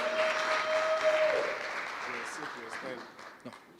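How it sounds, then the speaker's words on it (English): An audience at a business workshop in Galeshewe applauds, with sustained clapping that gradually thins out while voices talk over it. "Please, can we give Teko a round of applause?"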